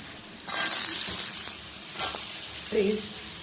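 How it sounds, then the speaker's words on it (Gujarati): Chopped carrots and potatoes drop into a pan of onions, garlic, cumin and asafoetida frying in oil, setting off a loud close sizzle that swells and then settles into steady frying with a few stirring scrapes. "હવે એમાં આપણે ગાજર અને બટેટા એડ કરી દઈશું."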